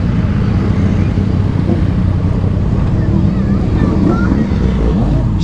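A crowd of motorcycles at a busy bike meet fills the air with a loud, steady, deep engine rumble that never lets up, overlaid with gusty wind noise on the microphone.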